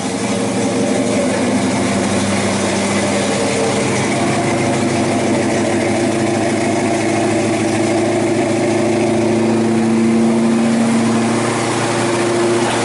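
A pump engine runs at a steady idle, a constant loud, close droning hum with a low throb and no breaks.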